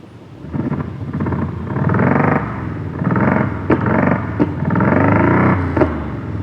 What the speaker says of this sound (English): You can actually hear that it has some kind of backfiring burble sound